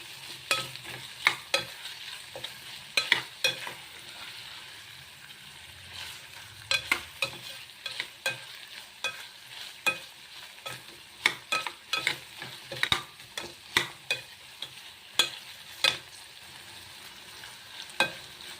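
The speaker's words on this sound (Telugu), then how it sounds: "వీటిని దోరగా వేయించుకుందాం." Carrot and radish pieces stir-fried in a pan for a carrot mullangi fry, with a soft steady sizzle broken by repeated scraping and tossing strokes of a spatula, close and moderately quiet.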